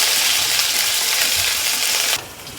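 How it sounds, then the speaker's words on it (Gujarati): A tempering of spices with a pinch of asafoetida crackles and sizzles loudly in hot oil, a dense steady frying hiss that drops off abruptly near the end. "તો વઘાર સરસ કકડી ગયો છે."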